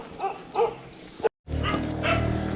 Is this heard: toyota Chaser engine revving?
no